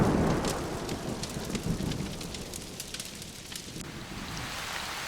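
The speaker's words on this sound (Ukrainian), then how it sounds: "Почалася злива і така сильна, якої в горах уже багато років не бачили" Heavy rain pours steadily in a thunderstorm as a fairy tale sound effect, a dense continuous hiss with low rumbling thunder swelling underneath, loud and close throughout with no voices.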